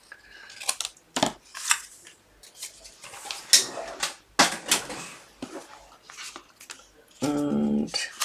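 Material is cut by hand while making a card, with a series of close, sharp snipping and crinkling sounds at irregular intervals and a brief mechanical buzz at the end.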